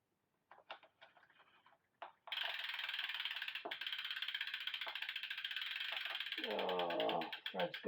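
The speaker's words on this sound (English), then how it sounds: "Let's get the bottom bracket off." A tool working the bottom bracket off a Giant TCR road bike gives a few soft clicks, then a long, steady, close ratcheting buzz from a pawl mechanism, ending with a few scraping clunks.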